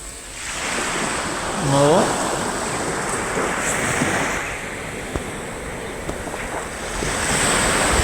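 Sea waves wash onto a beach in the early morning, a steady broad roar with wind noise on the microphone, a brief swell in the middle and a faint voice.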